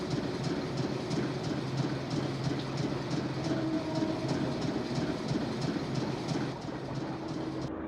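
A moving train in the Nancy Drew video game: a steady, dense rumble of rolling wagons with rhythmic clickety-clack from the wheels and a faint squeal, continuous throughout and unbroken by talk.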